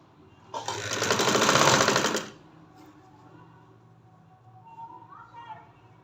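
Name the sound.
sewing machine stitching a girl's frock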